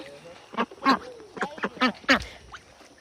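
Several ducks quacking nearby in short, uneven bursts, with brief pauses between calls and some quieter background noise.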